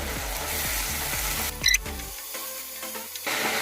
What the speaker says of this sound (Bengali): মশলাটা থেকে তেল ছেড়ে গেছে, এখন আমি অল্প জল দিয়ে দেব।